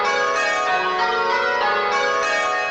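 Church bells ringing changes, the treble among them: dense overlapping bell strikes and long ringing tones sustained loudly throughout with no gap, no voices.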